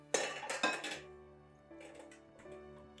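A metal mixing bowl is swapped out on a stand mixer while making a light Christmas pudding, giving a few loud clanks and clinks up close, then quieter rattling and settling as the bowl locks into place.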